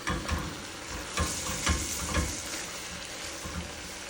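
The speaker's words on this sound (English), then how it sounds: "here's the sauteed vegetables that I have sauteing down" Vegetables sautéing in a pot, a close, soft frying sizzle broken by rhythmic scraping and stirring clatters roughly every half second, with no voices.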